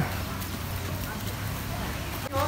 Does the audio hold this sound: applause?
no